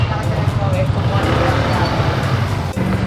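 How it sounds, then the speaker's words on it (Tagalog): Heavy road traffic with trucks in Kawayan: a dense, steady low rumble of engines close by throughout, with faint voices mixed in. "Remo, ang traffic dito sa may Kawayan. Grabe ang traffic."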